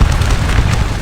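A musket volley in Scourge of War Waterloo roars as a loud, dense burst of massed gunfire, a rumbling crackle that fills the whole short moment with no voices.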